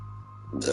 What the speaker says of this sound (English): Ooh, little burp.